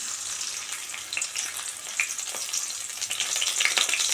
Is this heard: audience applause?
no